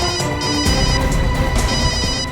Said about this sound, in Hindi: घंटी तो बज रही है।